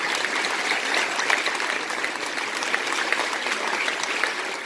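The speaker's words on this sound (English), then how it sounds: "One more round of applause for our senior class" An audience at a school concert gives the senior class a sustained round of applause, even dense clapping from many hands, fairly steady throughout with no talk.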